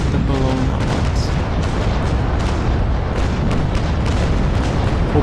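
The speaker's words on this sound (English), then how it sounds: "alternatively I'm trying to fire at the Bellona ones" Ship cannons fire in a naval battle in the game Naval Action, heavy booms rolling over a constant roar of wind and sea, loud and dense throughout.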